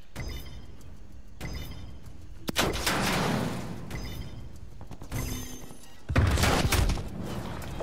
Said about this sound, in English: Sentry turrets working your AO.